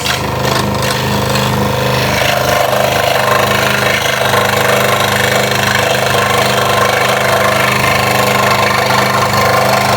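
A scroll saw cuts the outline of a Halloween project piece in a home workshop, with a steady, loud, continuous mechanical buzz and rattle throughout, a brief shift early on, and no talking.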